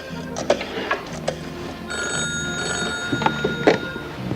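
A telephone rings in a domestic scene, with repeated bursts of bright bell ringing separated by short pauses, fairly close and loud, with no voices over it.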